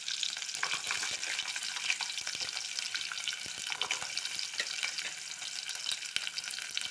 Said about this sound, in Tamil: இதை நல்லா வதக்கிப்போம்.